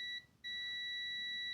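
A short, high electronic beep from an AstroAI DT132A multimeter's continuity test sounds, cuts out briefly, then resumes as a steady tone over a quiet background.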